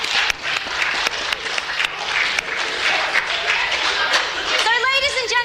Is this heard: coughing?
no